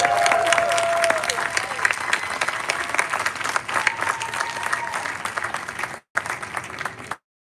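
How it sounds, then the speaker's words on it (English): Sustained audience applause at an outdoor US Army concert band evening performance, a full crowd clapping steadily with a faint tone under it, tapering then cutting off near the end. "Let's give another round of applause to Staff Sergeant Josh Kaufman"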